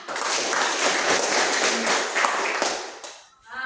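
Students in an Indonesian classroom clap together during a lesson on forests, giving a brief, fairly loud round of applause that lasts about three seconds before fading.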